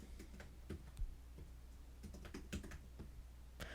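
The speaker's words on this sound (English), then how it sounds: "Let's edit the widget and type .set enable zoom false." Code being typed on a computer keyboard gives faint, irregular clicks and taps at close range, a quiet patter of individual keystrokes with short pauses between bursts.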